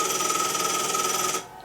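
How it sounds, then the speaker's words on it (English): A vintage telephone rings with a continuous, loud, rattling bell in a home setting, then cuts off abruptly near the end with no talking. "Excuse my phone. That, by the way, is one thing that I can use, because that is like an actual vintage phone."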